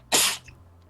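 One sharp, close sneeze bursting out suddenly and fading within a fraction of a second, with a soft breath trailing after it in a quiet room.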